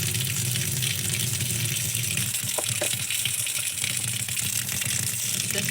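Water gushes steadily from a tap being switched from hot to cold, a loud continuous hiss and splash with no pauses.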